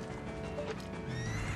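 Horse whinny in the video game Zelda: Ocarina of Time, a sharp neigh with quick hoof clip-clops over a soft game background, brief and fairly clear with no talking.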